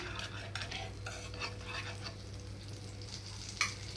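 Butter spread with a spoon across a hot dosa pan for a potato-egg omelette, a faint steady sizzle with light scraping strokes and one brief metallic clink near the end.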